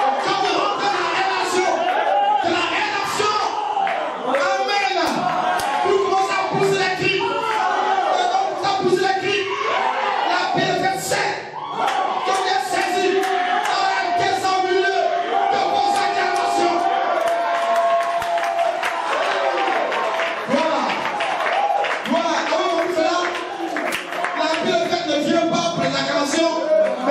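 Church congregation voices rise together in cheering and acclaiming, a dense, continuous crowd roar with shouts and some clapping mixed in throughout.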